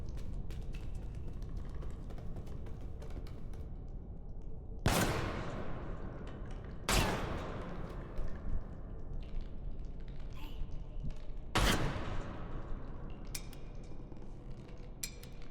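In the video game REANIMAL, three sharp gunshots ring out a couple of seconds apart over a steady low ambient rumble, each loud crack trailing into a brief decay.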